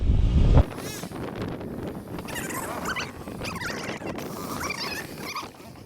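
Strong wind gusts buffet an outdoor microphone at a disc golf pro event, a loud low rumble at the very start, then steady blustery noise mixed with faint background sounds.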